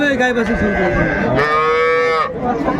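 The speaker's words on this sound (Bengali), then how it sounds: "এখানে একটা গাভী বাছুর দেখছিলাম আমরা" A dairy cow with her calf at Ambari haat cattle market lets out a loud, close, drawn-out moo that swells into a second strained, higher bellow before fading into market background noise.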